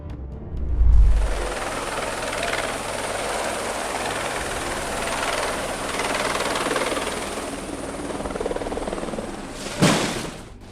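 An aircraft on landing approach during a 2018 approach into Kathmandu, Nepal, heard as a loud, steady broadband engine roar with a low rumble, holding for about ten seconds with a brief surge near the end.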